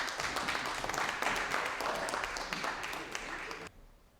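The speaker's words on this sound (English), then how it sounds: "Let's give him a round of applause" Audience applause for a performer coming on stage at an open mic night, a moderately loud room of clapping that carries on for several seconds and then stops abruptly.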